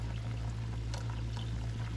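A mixed liquid pours steadily into a pot for braised beef noodles, with a continuous soft splashing over a low background hum and no talk.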